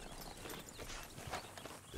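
Horse hooves clop steadily at a walking pace in Red Dead Redemption 2, fairly soft, with faint ambient noise underneath and no talking.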